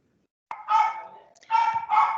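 A dog barks close by in three loud, drawn-out yelps after a moment of silence, the first short and the next two longer and separated by a brief pause.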